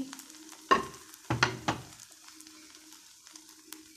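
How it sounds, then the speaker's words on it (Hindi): Onion, coriander, green chillies, chicken and cabbage drop into a pan for a cheese omelet, making a cluster of soft thuds and clatters close by, then a faint hiss and low hum. "अब हम वेजिटेबल्स डालेंगे प्याज धनिया हरी मिर्चें चिकन बंद गोभी"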